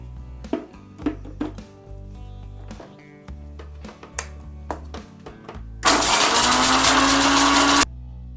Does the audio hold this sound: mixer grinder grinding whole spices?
yes